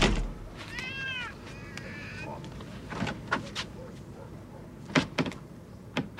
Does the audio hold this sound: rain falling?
no